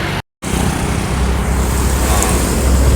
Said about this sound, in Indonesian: Kedatangan bus lagi, BEM Holiday pariwisata.